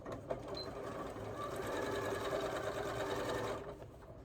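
A domestic sewing machine stitches a fabric panettone holder in one continuous, moderately quiet run of fast, even whirring that stops cleanly near the end.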